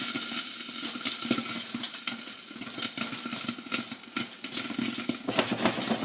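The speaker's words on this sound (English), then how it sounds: "you can kind of see through this steam and so forth that they're starting to pop around" Popcorn kernels burst in a pot on a stovetop as the pot is shaken, giving scattered sharp pops and light rattling over a soft steamy sizzle.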